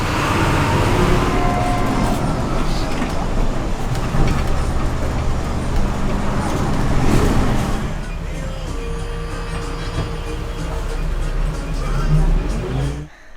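Inside a bus riding through traffic in Costa Rica, a steady low engine rumble and road noise carry on throughout, with a brief swell partway and voices murmuring in the cabin.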